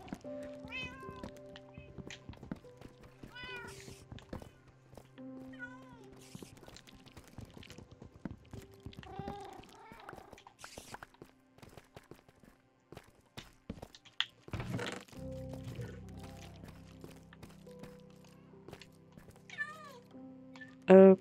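A cat in a survival video game meowing repeatedly, several short meows spread across the span with soft footsteps and game ambience between them, no talking.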